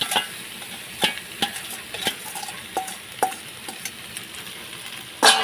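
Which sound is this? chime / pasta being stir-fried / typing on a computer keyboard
pasta being stir-fried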